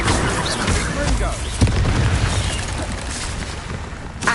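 A Confringo explosive spell blasts in Hogwarts Legacy, a loud rumbling boom within dense game audio, with voices talking throughout.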